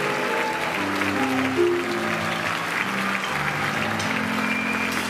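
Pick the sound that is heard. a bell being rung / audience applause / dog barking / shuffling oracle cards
audience applause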